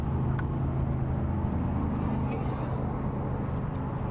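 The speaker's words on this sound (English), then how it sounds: "That's a 20 kW diesel generator." A 20 kW diesel generator runs on a 2021 Emerald Prevost H3-45 motorcoach, a steady low droning hum with constant level throughout, close and even, without voices.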